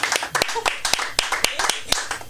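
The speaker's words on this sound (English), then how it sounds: "Give Hannah a round of applause" Scattered, uneven clapping from a comedy show audience greeting a volunteer, sharp claps mixed with voices talking and calling out over it.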